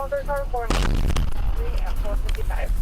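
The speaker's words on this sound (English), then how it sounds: "fireworks fuel a house fire, sparking an explosion" A sudden loud blast from fireworks in a house fire booms and rumbles out amid people talking, a single explosive burst with a deep low roar that fades over a second or two.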